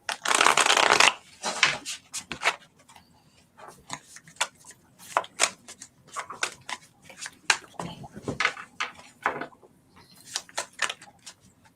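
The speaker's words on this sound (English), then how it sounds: "I just really want to make sure I shuffle really good for her." Tarot cards being shuffled, a dense riffling burst at first, then a string of softer flicks and taps as the deck is handled.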